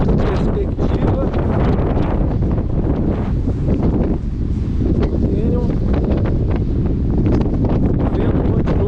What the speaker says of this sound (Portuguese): O vento continua muito forte.